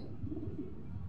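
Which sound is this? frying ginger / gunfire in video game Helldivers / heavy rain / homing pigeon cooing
homing pigeon cooing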